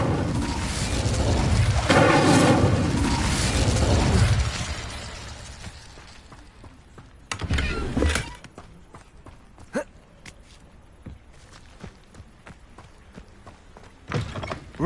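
Incendio fire spell cast in Hogwarts Legacy: a loud rushing, roaring burst lasting a few seconds, followed by fainter whooshes and sharp impacts scattered over quieter game ambience.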